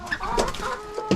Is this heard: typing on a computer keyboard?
no